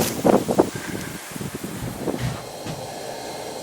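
Wind gusts buffet an outdoor camera microphone on a cold trapline, giving rough, uneven low rumbles and bursts that rise and fall across the clip with no voices.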